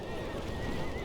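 Horses whinnying and hooves galloping in the Battle for Middle Earth II strategy game, a steady dense cavalry rumble with neighing, loud and continuous throughout.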